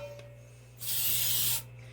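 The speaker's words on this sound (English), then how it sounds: "Alright, so spray a little Baker's Joy in there." Baker's Joy baking spray hisses from an aerosol can into a loaf pan for banana nut bread, one steady spray lasting under a second, close and clear over a low electrical hum.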